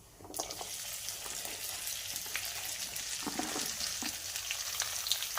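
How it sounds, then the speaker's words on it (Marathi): Cut okra (bhindi) frying in oil in a pan, a steady loud sizzle running throughout with occasional stirring clinks and scrapes, no talking. "आपल्याला 2 ते 3 मिनिटे तेलात परतून घ्यायचे आहे"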